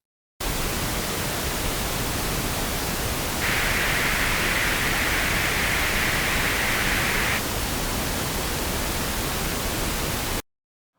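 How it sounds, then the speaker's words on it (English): Flat pink noise hisses on its own for about ten seconds, and partway through a boosted 2 kHz octave band brings a brighter, nasal, 'eh'-like edge for around four seconds before dropping back to the even hiss. "Two kilohertz boosted sounds like eh."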